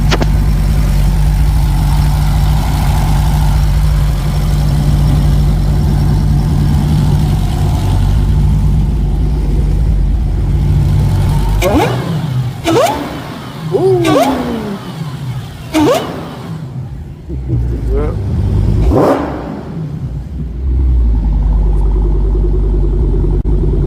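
A supercharged modern muscle car engine at a car show rumbles steadily at idle, then snaps through several sharp revs in the middle before settling back into a loud, close idle.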